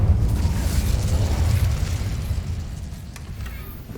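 An Incendio fire spell is cast in Hogwarts Legacy: a loud, low, rumbling burst of flame with a roaring whoosh that gradually fades over a few seconds.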